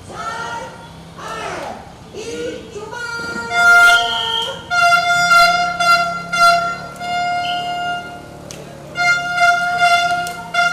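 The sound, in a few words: horn sounded to start a cycling ride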